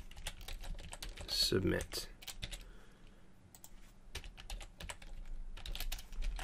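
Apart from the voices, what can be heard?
typing code on a computer keyboard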